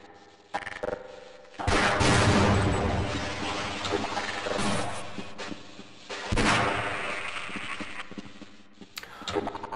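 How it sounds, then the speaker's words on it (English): Gunshots in the video game Half-Life: Blue Shift, set in a shooting gallery: loud, close bursts of rapid fire, with a short pop, then two long sustained volleys and a final sharp shot, all with no talking. "Running me out of shots here."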